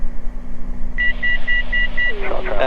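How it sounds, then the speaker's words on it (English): Inside a small aircraft's cockpit, a climb alert sounds a quick series of five evenly spaced beeps over the steady drone of the engine, and a voice starts speaking just after the beeps end. "That was beeping to let us know we're still climbing."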